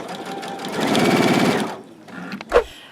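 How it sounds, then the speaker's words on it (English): A sewing machine quilting fabric runs in one fast, steady mechanical whirr for about a second before stopping, followed by a brief clunk, loud and close. "I'm going to go all the way around this, quilting it about a quarter of an inch to a half inch from one another"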